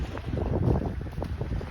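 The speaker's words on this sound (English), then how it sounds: "A little bit windy off the Gulf, but not too bad yet." Wind blowing off the Gulf of Mexico across a stern-anchored boat at Cayo Costa, a steady buffeting rush against the microphone with low rumbling gusts and no talking.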